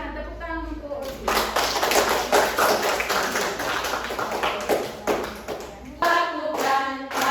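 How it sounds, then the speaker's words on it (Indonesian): Classroom clapping for OSI during a teacher-training lesson, a dense burst of hand claps from a group of students lasting several seconds, with talk and a low hum before and after. "Ya, silakan tepuk tangan untuk OSI."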